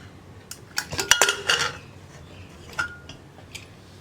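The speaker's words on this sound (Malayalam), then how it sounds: "കുക്കർ അടച്ചു വെച്ചിട്ട് ഇതാ 1 വിസിൽ വന്നു, കംപ്ലീറ്റ് പ്രഷർ പോയി. ഞാനൊന്ന് തുറക്കുകയാണ്." Metal clanks and clinks of a pressure cooker lid being handled and opened after one whistle, with cooked lentils inside; a dense cluster of sharp metallic knocks early on, then a few scattered lighter clinks.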